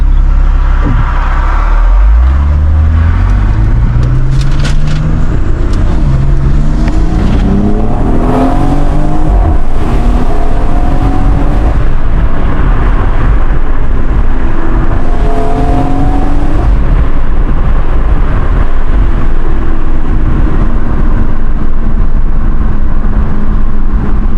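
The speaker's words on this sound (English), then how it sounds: "Put that bitch in Sport Plus." A BMW B58 inline-six fitted with a new downpipe revs hard in Sport Plus, loud and close, with repeated rising blips and climbing revs over a steady exhaust roar that lasts throughout.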